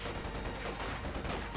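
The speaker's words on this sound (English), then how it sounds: "Conscripts advancing under fire. Shots flaring out." Dense gunfire and machine-gun bursts in Company of Heroes 2, conscripts advancing under fire near a church held by machine gunners; a continuous, loud, crackling barrage with no talk over it.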